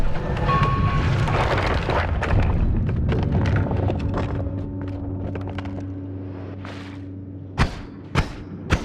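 Bomb blast in the Noita video game: a loud rumbling eruption with crackling debris that slowly fades, followed by several short sharp thuds near the end, with no talk.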